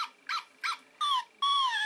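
A toy dog sitting in a small basket gives a short series of electronic yips and whimpers, four or five clipped high-pitched bursts that get longer toward the end, close and alone.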